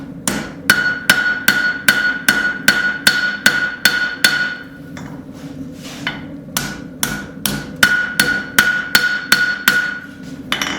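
Rapid, evenly spaced hammer blows ring out on a railroad spike being forged into a knife, with bevels worked over the round part of an anvil horn, each strike bright and metallic, about twenty hits with a brief pause midway.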